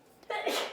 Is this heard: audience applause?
no